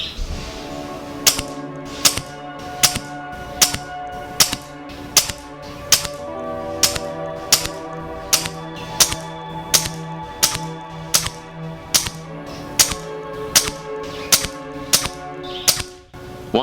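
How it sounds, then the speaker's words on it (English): A Brocock Concept XR Lite air rifle fires Olympia Shot pellets, a long series of sharp, evenly spaced snapping shots about every second, each with a short mechanical clack, close and clear with no talk. "I'm going to shoot 5 sighters just to let the barrel a little bit, and then 3 targets, each at a different speed."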